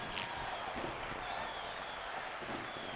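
Crowd at a high school football game between St. Augustine and John Curtis, cheering and applauding in a steady, dense roar with no break.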